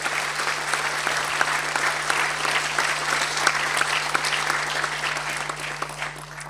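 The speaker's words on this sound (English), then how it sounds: "could I have a round of applause for those people that are sitting at home at the moment?" A forum audience at an annual event gives a sustained round of applause, dense and even throughout, with a faint steady electrical hum underneath and no talking.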